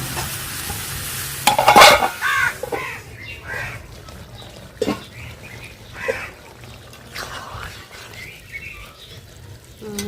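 Chunks of bottle gourd go into hot oil left from frying rui fish, and the pan sizzles steadily while a spatula clatters and stirs now and then, and a duck quacks somewhere in the background.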